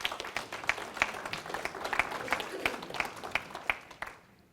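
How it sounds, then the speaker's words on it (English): Church audience applause welcoming a man to share his story of recovery from addiction, a moderate crowd clapping with a few sharp, prominent claps standing out in a regular rhythm before it fades away. "let's give him a round of applause."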